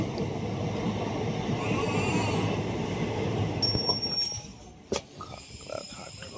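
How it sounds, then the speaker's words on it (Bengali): The 13027 Azimganj Kaviguru Express rolls into Khagraghat Road station, heard on board as a steady rumble with faint thin wheel squeals. It quiets toward the end, broken by a single sharp knock. "এই মুহূর্তে ট্রেন কিন্তু খাগড়াঘাটের উদ্দেশ্যে ঢুকে যাচ্ছে আমাদের ট্রেন।"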